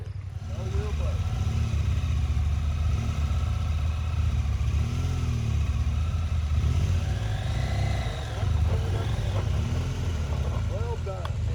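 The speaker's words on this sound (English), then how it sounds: "You hear that engine trying to stall?" A motorcycle engine runs low and uneven, its note sagging and faltering as if close to cutting out, with a voice talking over it.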